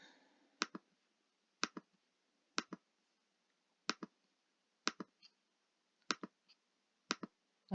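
A computer mouse clicks in quick close double taps, pairs repeating at roughly one-second intervals, crisp and faint against a quiet background.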